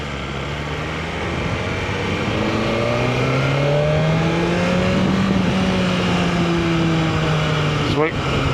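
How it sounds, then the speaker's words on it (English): BMW S1000RR sport motorcycle engine revving in race mode, a loud, steady, rising and falling roar with a few brief backfire pops near the end, while a person talks over it. "it backfires a little bit now in race mode"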